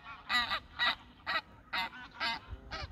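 White geese honk in a quick series of six loud, nasal calls, close by, with no talk, in the Lake District countryside near Keswick.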